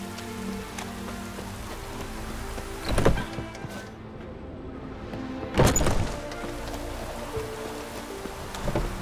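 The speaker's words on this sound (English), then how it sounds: "Rains like this come sowing time." Steady rain patters throughout in The Witcher 3, a continuous wash of drops on surfaces with no talk, broken twice by brief louder thumps near the middle.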